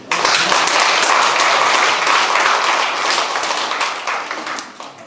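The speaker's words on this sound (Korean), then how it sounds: "네, 진짜 이 대목은 여러분 정말 박수 쳐주셔야 돼요." Audience applause at a town-hall public meeting with citizens, a loud, dense burst of many hands clapping together that holds steady for several seconds before tapering off.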